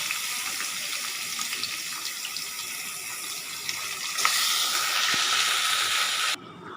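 Chicken, washed and coated with turmeric, dropped into hot oil with sautéed curry leaves for a coriander pepper chicken, giving a steady loud broadband sizzle that swells midway and cuts off sharply near the end.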